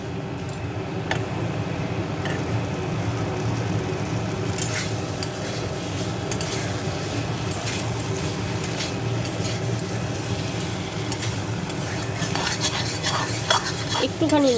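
Raw jackfruit curry with spices is stirred in a pan, with a spatula scraping and clinking steadily over a low sizzle. Sharp metallic knocks come now and then, and no one speaks.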